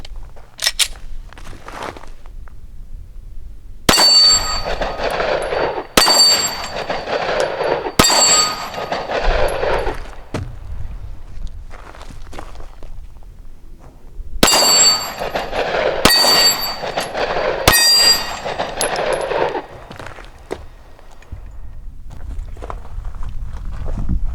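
A Glock G43x pistol is fired one-handed at steel targets outdoors. Two groups of three sharp, loud shots each ring with a metallic clang, separated by a long pause.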